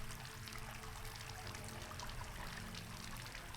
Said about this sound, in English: I gotta find out where the water's flowing to.